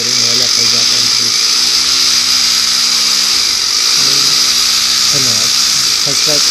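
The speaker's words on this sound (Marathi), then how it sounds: "आता ड्रिल मारून घेऊ एकदा" An electric drill bores into a wall while a decorative wall light is being installed at home, giving a steady, loud, high whine throughout as someone talks over it.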